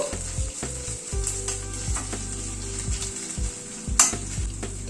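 Chopped green chillies and ginger paste stir-fried in a pan over low heat give a soft steady sizzle, broken by repeated scrapes and clinks of a spatula against the pan, with no talking.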